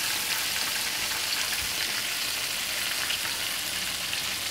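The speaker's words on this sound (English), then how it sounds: "And you're going to keep on stirring it like that." Thickening milk gravy for country fried steak sizzles steadily in a pan as it is stirred, a constant close hiss with no talking.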